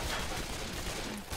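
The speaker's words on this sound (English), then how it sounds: "Sounds like the TF2 shotgun" Gunfire from a shotgun in the video game Left 4 Dead 2, a short burst of sharp, loud blasts packed close together over a steady background of game noise.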